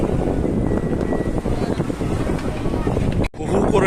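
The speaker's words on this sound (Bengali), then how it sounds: "হাওয়া দিচ্ছে" Strong sea wind buffets the microphone on a rocky seaside spot by the ocean in Kerala, a constant loud rushing roar with gusty swells and a brief cut near the end.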